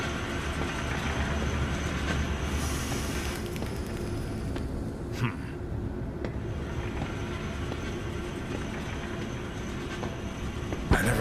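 Gadget trolley rolling on rails in Zoochosis, a zoo game: a steady low rumble of wheels on track with faint rattles, a brief hiss and a few scattered clanks, with no talk.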